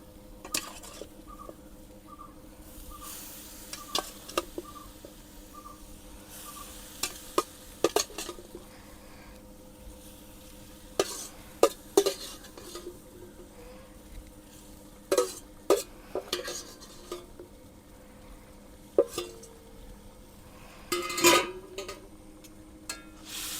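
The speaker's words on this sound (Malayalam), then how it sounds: "നമുക്ക് വെന്ത് വെച്ച ബീഫ് ചേർത്ത് കൊടുക്കാം." Cooked beef stirred into a boiling curry masala: sparse, sharp clinks and scrapes of a spoon against the pot over a quiet background, with occasional clusters of louder knocks.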